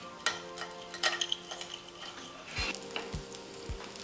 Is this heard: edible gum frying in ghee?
yes